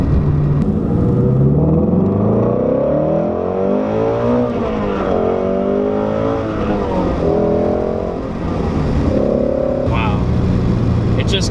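A 2017 Shelby GT350 engine revving under a bridge, loud and close, with rising and falling revs that echo off the structure and someone talking over parts of it.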